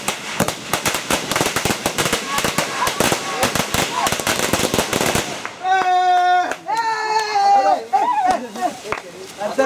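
Firecrackers set off in rapid, crackling bursts for about five seconds, followed by people talking and shouting nearby.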